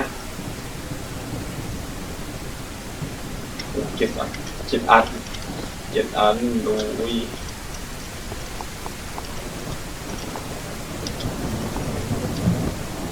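Rain and thunder in the Mist Survival video game form a steady hiss of falling rain with low rumbling beneath, continuous throughout, while someone talks over it in the middle.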